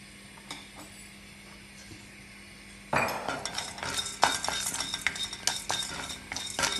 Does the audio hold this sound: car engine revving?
no